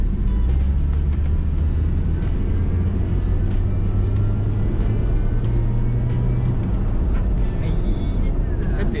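An American-made car used as a taxi roars under hard acceleration, a loud, sustained engine drone heard from inside the cabin, with people talking over it.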